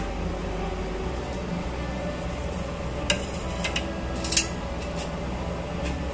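A utensil stirs flattened-rice puli pithe in sugar syrup in a pan, making a few light clinks and scrapes against the metal over a steady low background hum.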